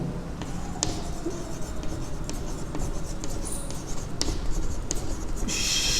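Chalk or marker scratches across a classroom board while a maths teacher writes set notation for a commerce logic lesson, brief close strokes and taps scattered through a steady room hum.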